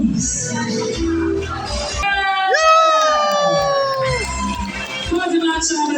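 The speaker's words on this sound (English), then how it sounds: "A round of applause, please." A crowd at a parish king and queen contest cheers and whoops, with shouting voices and a rising whistle-like cry over the noise, partly mixed with talk.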